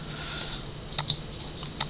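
A few quick, light keystrokes click on a computer keyboard in a quiet room, arriving in two small bursts.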